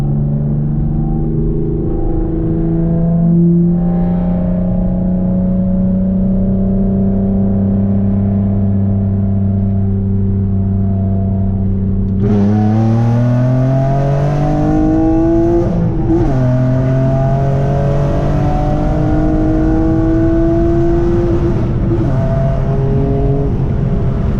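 A 6-speed manual swapped Nissan Maxima accelerating hard, engine note climbing steadily through the revs, a brief dip at a gear change, then pulling up again with a loud, close, droning roar.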